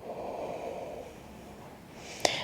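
Steady, slow breathing during a sun salutation yoga flow, a soft continuous airy rush ending in one short, sharp nasal exhale near the close.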